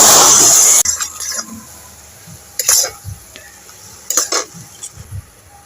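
Water hitting hot sugar caramel in a pan: a loud burst of hissing steam at the start, then quieter bubbling with several sharp spoon clinks and stirring scrapes against the pan.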